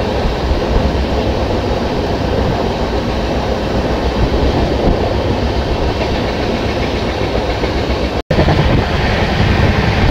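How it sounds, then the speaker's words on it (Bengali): Interior of the Jan Shatabdi Express between Bhubaneswar and Howrah, running over tracks: a loud, steady rumble with rhythmic clatter of wheels over rail joints, sustained throughout with a brief dropout near the end. "আর ট্রেন এটা বারাঙ্গ নালা পার করলো।"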